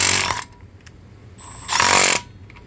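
A Milwaukee M12 Surge impact driver with a 3/4 inch socket on speed 2 rattles hard in two loud bursts as it removes a bar nut from an 872i, with a short pause between the bursts.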